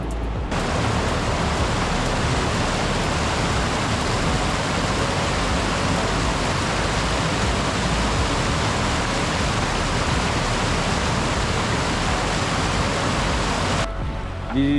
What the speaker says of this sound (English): These mountains are shedding water really fast with it being the summer solstice. So the water's high, and this is creek crossing number 3